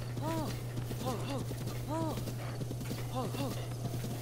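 Horse hooves clip-clopping at a trot in Zelda: Breath of the Wild, an even rhythmic patter with a few short whinnies over a constant low game drone, with talk mixed in.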